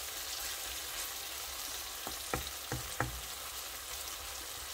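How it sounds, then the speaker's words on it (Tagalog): Onion, garlic and tomato sautéing in a pan for mixed vegetable ginisa, a soft even sizzle with a few quick utensil taps near the middle, quiet and without talk. "Habang ginigisa ko itong tatlong ito. Sibuyas, garlic, and dumata."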